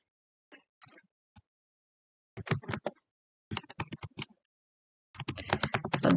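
Typing on a computer keyboard to enter a short description into a text field, heard as three bursts of rapid clicking keystrokes, quiet at first and then fuller, with short pauses between bursts.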